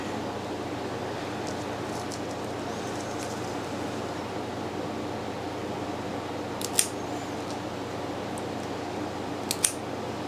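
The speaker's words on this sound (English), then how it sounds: "Trimming off the excess" Two quick, faint scissor snips trim the excess from a variegated plant cutting during propagation. They sit over a steady low room hum, with no talking.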